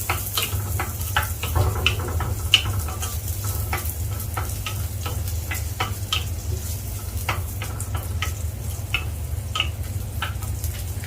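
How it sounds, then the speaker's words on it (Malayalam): Small onions (shallots) sautéing in a pan for Kerala-style jackfruit seed theeyal, a continuous close sizzle with frequent crisp crackles and pops, steady throughout. "കൊച്ചുള്ളി നല്ലതായിട്ട് നമുക്ക് വഴറ്റി കൊടുക്കാം."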